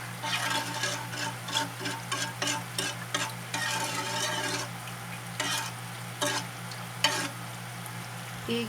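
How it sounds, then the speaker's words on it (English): A spoon stirring fish ball sauce with brown sugar in a pot, repeated scraping strokes over a faint sizzle and a steady low hum, close and moderately loud. "Give it a good mix."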